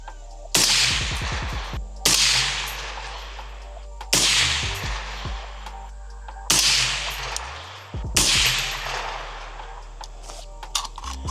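A 22-inch 6 ARC rifle fires 80 grain factory ammo in five sharp, loud shots spaced about two seconds apart. Each crack is followed by a brief ringing decay, with no talking between shots.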